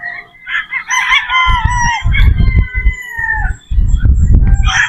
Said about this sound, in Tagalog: So yun po mga bossing yung ating Paycom na Boston Roundhead.